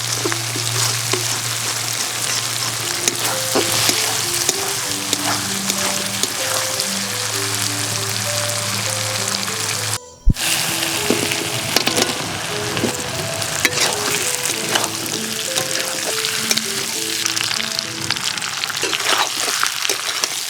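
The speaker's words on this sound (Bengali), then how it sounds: "এঁচড় আর আলু মশলার সাথে খুব ভালো করে কষিয়ে নিতে হবে।" Jackfruit and potato fry with spice masala in a pan, giving a steady rain-like sizzle with scattered crackles. A brief cut near the middle breaks it before the sizzle resumes, under a low background tone.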